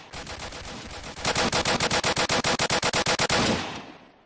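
Rapid automatic gunfire in the video game Apocalypse Rising: a loud, close, steady string of about fifteen evenly spaced shots after a denser opening burst, ending in a fading tail.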